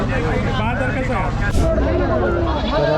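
Young goats bleat repeatedly amid a busy crowd of chattering voices, close and loud, with the hubbub of a goat and chicken market at Talegaon Dhamdhere, Shirur, throughout.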